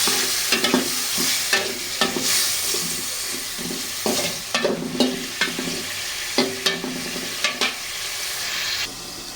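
Stinging catfish (shing fish) frying in spiced masala in a pan, with a soft continuous sizzle broken by repeated scraping, stirring knocks against the pan at an uneven rhythm, close by.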